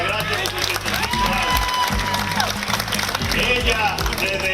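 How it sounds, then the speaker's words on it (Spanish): A crowd applauds a 105-year-old woman at a public gathering, a sustained wash of clapping and cheering heard under ongoing talk. "Un aplauso para doña Altagracia de 105"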